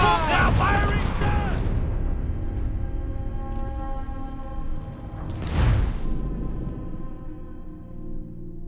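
Ship cannons fire in the Assassin's Creed IV Black Flag video game, a couple of deep booming blasts ringing out amid shouting crew voices and a sung sea shanty, the loudest boom coming late and resonating under the singing.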